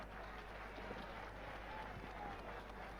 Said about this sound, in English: Another nice round of applause,